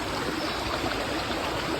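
A jungle river in Guadeloupe flows in a steady, rushing stream of water, close and continuous, with no voices.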